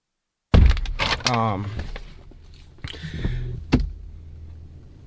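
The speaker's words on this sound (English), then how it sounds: "you can hear a second door shut when he puts his drink down" A door thuds shut in a played-back recording, a sharp close slam followed by a second thump a few seconds later, with a person talking over the recording.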